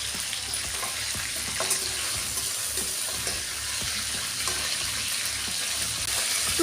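Rohu fish sizzles in hot oil in a wok, a steady close crackling fry with scattered pops and light stirring or turning clatter, continuous and without speech.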